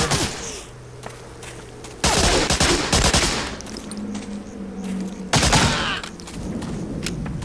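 Machine gun fire in the World War II game Medal of Honor: Spearhead, two loud close bursts of rapid shots separated by quieter stretches of background battle noise.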